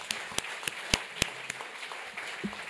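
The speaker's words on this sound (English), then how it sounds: "Let's have another round of applause for our amazing panel." Audience applause for a panel at a live event in New York, a thin scattering of separate claps heard at a distance over a room hum.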